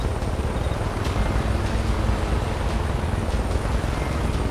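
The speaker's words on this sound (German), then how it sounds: "Da kommt ein scheiß Heli." Helicopter approaching in the video game Far Cry 5, a steady loud rotor and engine drone that stays constant throughout with no voices.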